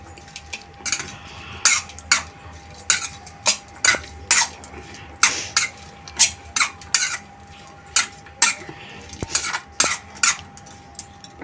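Spoon scraping and clinking against a bowl while corn bhel is mixed with green coriander-chili chutney, a steady run of close, sharp metallic taps and scrapes in an irregular rhythm with no voices.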